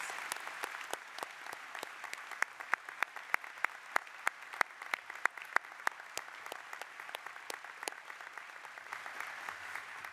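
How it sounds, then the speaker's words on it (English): Audience at a college presidential installation ceremony clapping, a sparse, fairly distant patter of individual claps that thickens briefly in the middle, then thins out, with no voices over it. "Please join me in giving them all a round of applause."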